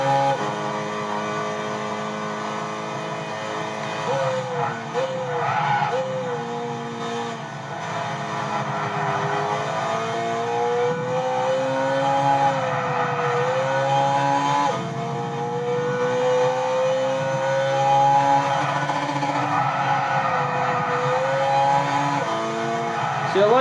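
A Subaru BRZ's engine revs high and holds in Gran Turismo 6 while the rear-wheel-drive coupe drifts, its loud buzzing note rising and dipping continuously over about twenty seconds with no talk.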